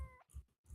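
A cat gives a short two-part meow, close and fairly quiet, with a brief pause between the calls and no talking.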